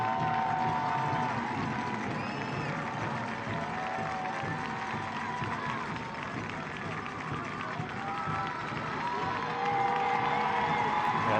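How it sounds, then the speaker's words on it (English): A stadium crowd at a Colorado Springs Switchbacks FC versus New Mexico United soccer match cheers after a 3-0 win, a steady, dense roar of voices and clapping that holds throughout with commentary running over it. "the crowd are cheering"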